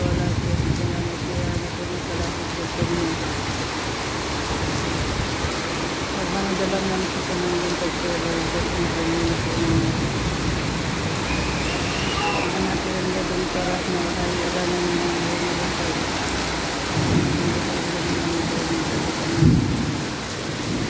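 A steady, heavy rain pours down in the Philippines, a dense continuous hiss on a surface with low rumbling beneath it, loud and close throughout with no break.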